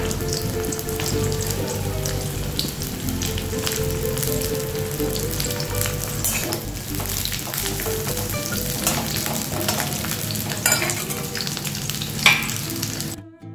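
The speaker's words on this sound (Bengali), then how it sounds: "সেই তেলটাও গরম হয়ে গেছে। এবার অন্য সবজি দিচ্ছি।" Pointed gourd and other vegetables frying in hot oil give off a loud, continuous, dense sizzle with crackling, steady throughout and occasionally stirred, ending abruptly.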